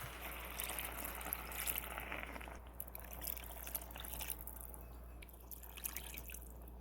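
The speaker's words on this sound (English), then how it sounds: "I'm going to go ahead and add 6 cups of water to this." Six cups of water are poured into a pot of ground beef cooking for spaghetti sauce, a quiet continuous splashing and trickling with a low steady hum beneath it.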